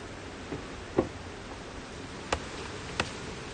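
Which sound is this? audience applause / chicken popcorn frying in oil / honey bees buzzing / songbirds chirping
honey bees buzzing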